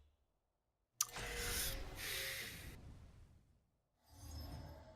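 A yawn heard up close: a long, breathy drawn-out exhale after a sharp start, a brief pause, then another softer breath.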